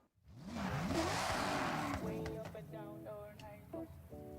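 Hypercar engine in the racing game Forza Horizon 6, revving up with a rising whoosh and tire noise, then settling into stepped, buzzing gear-change tones, loud and close.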